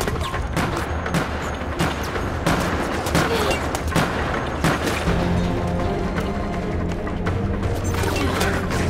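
Rapid gunfire bursts and crashes from the video game Resident Evil: Operation Raccoon City, dense and continuous over an underlying game soundscape, with no talking.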